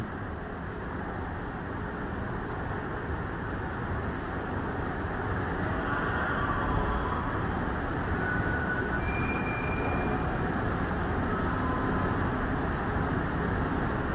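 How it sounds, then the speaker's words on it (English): A metro train preparing to depart idles at Huntington WMATA station in Virginia with a steady, broad rumble and hum throughout, faint high tones briefly rising above the low mechanical drone. "one of the trains getting ready to leave."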